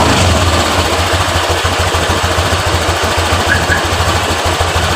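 A Honda Vario LED scooter engine, which hesitates and sometimes stalls, runs loud and close with a rough, fast idle, its steady buzzing drone holding level throughout without any clear rise in pitch.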